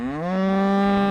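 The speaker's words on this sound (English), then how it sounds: "Yeah, I love cattle." A cow gives a single loud, sustained moo close by on a farm, steady and alone with no talk.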